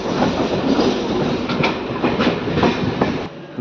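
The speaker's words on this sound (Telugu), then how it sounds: "విష్ణుపురంకి మన ట్రైన్ చేరుకుంది." DEMU passenger train rolling into Vishnupuram station in Telangana, a close, steady rumble of the coach with rhythmic wheel clatter over rail joints, slowing near the end.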